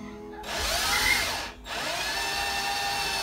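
A power drill whines loudly and close as it bores a hole, pitch rising and falling with speed, pausing briefly mid-clip before spinning up again steadily.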